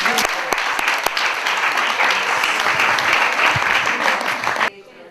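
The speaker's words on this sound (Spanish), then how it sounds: "pero podemos aplaudir, yo creo" An audience at a talk breaks into loud, sustained applause with sharp individual claps standing out, cutting off abruptly near the end into quiet.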